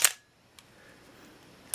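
Pentax K1000 35mm film SLR shutter firing at 1/1000th, a single sharp, close mechanical snap at the start, followed by near silence with a faint click partway through and another at the end.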